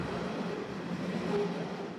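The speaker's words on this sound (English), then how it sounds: "This one's got probably 90 or 100 wagons to it, 100-tonne wagons. So they're not small trains." A long coal train of roughly 90 to 100 wagons, each 100 tonnes, rolls past as a steady low rumble of rail noise with a faint squeal partway through.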